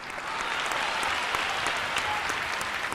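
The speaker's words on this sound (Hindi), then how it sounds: "यह शाद के लिए तालियां देना" A large seated audience at a Ram katha with Dr Kumar Vishwas claps in a dense, continuous wash of applause that holds steady and fairly loud throughout.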